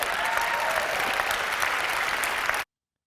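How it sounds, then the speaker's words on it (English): Steady applause from a crowd of people clapping, dense and fairly loud, running unbroken for about two and a half seconds before cutting off abruptly. "people are clapping"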